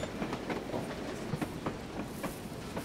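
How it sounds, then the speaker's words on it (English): A train rolls across a bridge on the Weardale and Teesdale lines, hauled by a J50 locomotive, its wheels giving a steady clickety-clack of rhythmic rail joints heard up close and alone. "Train's on a bridge, snappity snap."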